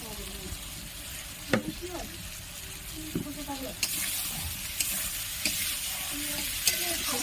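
Soaked soybean chunks stir-frying in hot oil, a continuous close sizzle punctuated by sharp spatula scrapes and knocks against the pan, with no speech.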